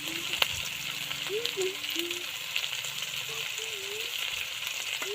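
Fish curry masala with turmeric frying in a pan for Bengali machher jhol, a soft steady sizzle close by with faint occasional stirring, fairly quiet, with a few faint tonal background sounds.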